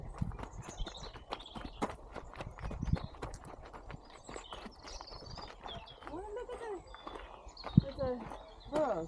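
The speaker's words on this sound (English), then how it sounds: "Donkey. An ass." A donkey walks at an outdoor folk park, its hooves clip-clopping in an uneven rhythm close by while people talk over it and a few animal calls rise near the end.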